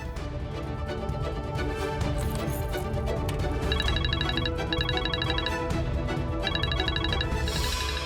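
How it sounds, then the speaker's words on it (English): A phone rings with a bright repeating electronic tone in several bursts over a loud, busy musical background, with no talking. "Whose phone is ringing?"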